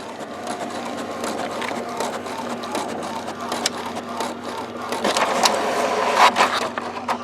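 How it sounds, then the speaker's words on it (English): A cheap inkjet printer, running refilled HP 63, 62 or 61 cartridges, prints at close range with a steady mechanical whir and a scatter of small clicks and knocks, and no talk. "Oh, it's coming out. printing fairly quick."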